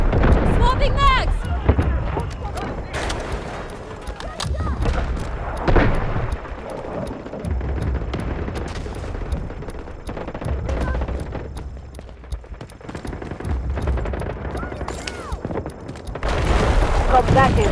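Automatic gunfire and bursts in a Delta Force 24v24 Warfare battle on the Cracked map, heavy and near, almost continuous over the whole stretch, with game voice callouts mixed in.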